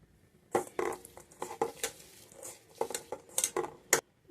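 Chopped vegetables with onion greens, chili and coriander leaves are mixed by hand with turmeric, chili and salt in a bowl, producing close, irregular clinks and soft squelching scrapes that come in bursts.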